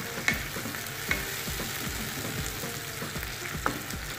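Steady sizzling and frying of bottle gourd and tomato in a hot pan, with occasional stirring scrapes and soft clinks of a utensil over a constant hiss.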